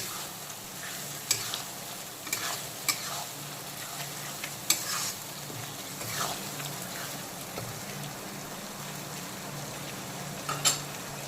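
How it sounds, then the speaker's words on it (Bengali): Tomato paste and green chili sautéing with onions in a pan for mutton curry, a low steady sizzle with occasional sharp scrapes and taps of a spoon, close but fairly soft. "এখন আবারও 2-3 মিনিট সময় নিয়ে টমেটোর পেস্ট আর কাঁচা লঙ্কাটাকে একটু কষিয়ে নেব ভালো করে"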